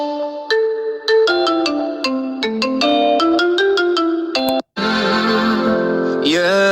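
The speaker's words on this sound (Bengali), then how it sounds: "যেমন আমি একটি রিংটোন প্লে করছি।" A phone ringtone from the Zedge app plays loud and clear, a bright plucked melodic tune of quick repeated notes, pausing briefly before a sustained synth swell.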